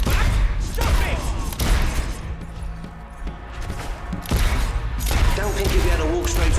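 Gunfire exchange in the Fable III video game, with bursts of shots and impacts scattered across the scene amid combat noise, under intermittent talk.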